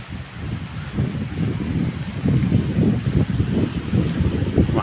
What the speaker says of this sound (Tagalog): Mahangin dito kasi